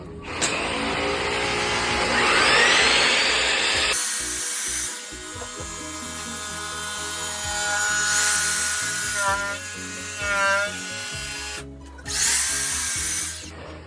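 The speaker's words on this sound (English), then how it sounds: "And now we're gonna use the chop saw to cut it." A chop saw cutting a wooden plaque to length, with several loud high-pitched whining bursts of the blade spinning up and biting through, separated by quieter pauses.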